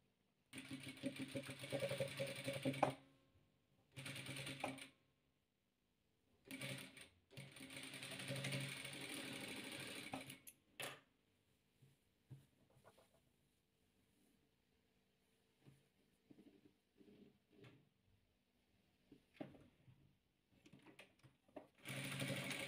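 A sewing machine stitches red and yellow patchwork fabric pieces together in loud, close runs of rapid whirring, several bursts broken by pauses, then a long quiet stretch with faint handling before a final burst.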